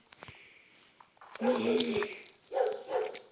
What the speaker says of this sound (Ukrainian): собака лає